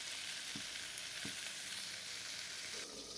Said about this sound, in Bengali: আলুটা একটু লাল হয়ে গেল, আরও কিছু সময় ভেজে নেব